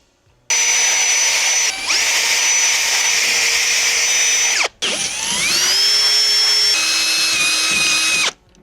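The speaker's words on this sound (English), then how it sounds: "we need to do is drill out the holes that we've already done with this drill bit" A power drill whines loudly in two long bursts, its pitch shifting as the bit bites into the metal of a Mercedes Sprinter van, drilling out rivet holes, with a brief pause between.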